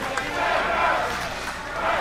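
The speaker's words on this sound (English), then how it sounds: "You can hear the crowd chant Spectre." A wrestling crowd roars continuously from a distance, a dense arena din swelling and falling as fans chant the wrestler Spectre's name.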